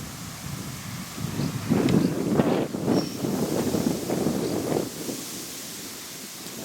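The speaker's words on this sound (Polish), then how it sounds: "Wieje delikatny wiaterek, ale to niczym nie przeszkadza. Są dosyć mocne porywy" Gusty wind blows by the Szkarpawa river, rising in strong buffeting gusts through the middle of the clip before easing, a broad rushing noise with no voices.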